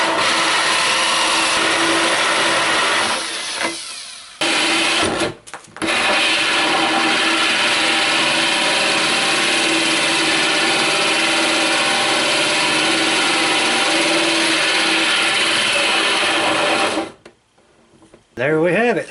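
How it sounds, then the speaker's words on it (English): Power drill boring a hole for a Kwikset door lock, a loud, steady whining motor that runs continuously for about twelve seconds after a couple of short bursts, then stops abruptly. "Now you want to be sure to hold this drill with two hands"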